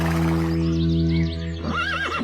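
A horse gives a loud, close whinny, a long quavering neigh that rises and wavers before ending in a shorter high trill, with no voices present.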